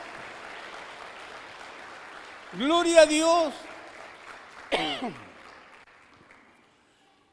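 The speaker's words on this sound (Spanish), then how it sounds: "Dale un fuerte aplauso al Rey." A church congregation applauds steadily through a sermon, with a voice shouting out over the clapping in two loud bursts before the applause fades away.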